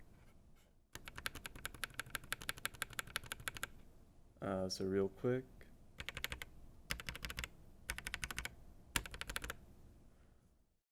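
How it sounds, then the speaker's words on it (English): Lubed lavender mechanical keyboard switches on a small holder, pressed in quick repeated bursts of crisp, soft clacks, close and fairly quiet, with a brief spoken phrase in the middle. "this last one's the second switch I lubed, which I think sounds a bit better"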